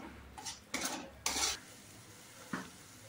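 Spices being sautéed in oil in a pan, with a few distinct bursts of stirring and utensil scrapes against the cookware followed by a quieter stretch and one last short clatter, no talking.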